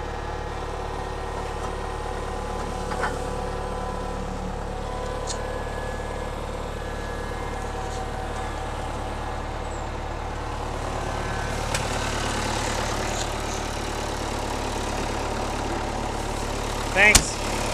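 A truck engine idles steadily throughout with a low constant rumble, with a few clanks and a sharp knock near the end.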